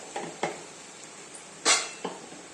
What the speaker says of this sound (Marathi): आता हे छानपैकी परतून होतंय